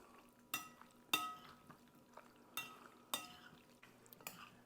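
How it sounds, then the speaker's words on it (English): Dressing is mixed into a tomato, pasta and mozzarella salad, with quiet wet squelches and several distinct clinks of a utensil against the bowl at irregular intervals. "I'm going to pour this dressing over my tomatoes and pasta and mozzarella. And I'm going to give a good mix."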